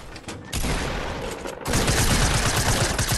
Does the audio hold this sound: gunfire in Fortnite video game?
yes